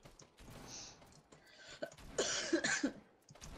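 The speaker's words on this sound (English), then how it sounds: "It was a cough." A person coughs indoors in a few rough, breathy bursts, with a harsher cluster of coughs after a short pause.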